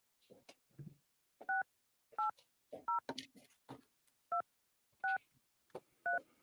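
A telephone keypad sends a string of about six short, sharp DTMF beeps in a spaced, irregular rhythm while someone talks quietly between the tones during a live call-in show.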